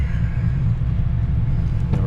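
A very loud car engine running steadily on a dynamometer, a dense low rumble held at constant power up close, with no talk over it.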